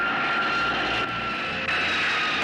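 Jet airliner engines roar steadily and loudly throughout a landing scene in the 1980 film Airplane!, a continuous droning whine with no speech.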